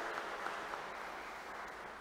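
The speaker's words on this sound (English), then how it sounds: "we can now give them a round of applause for their service to our parish" A church congregation applauds during Sunday Mass with faint, distant, steady clapping that fills the space evenly for about two seconds.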